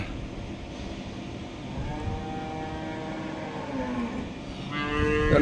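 Cattle near a cowshed let out drawn-out moos, one long call in the middle and another rising near the end, over a steady rumbling outdoor background.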